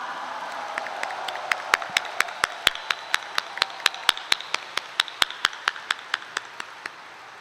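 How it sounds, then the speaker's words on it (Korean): Audience at the Saenuri Party's 18th Korean presidential nomination acceptance speech claps in sharp, evenly spaced beats, a steady run of distinct claps that could be rhythmic unison clapping, with no voices over it. "여러분, 우리 네 후보님께 큰 격려의 박수 부탁드립니다."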